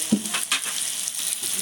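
Garlic paste and green and ripe chili paste frying and being stirred in a pan for a spicy sea crab curry, a steady close hiss with a few soft scraping strokes of the spoon, no voices.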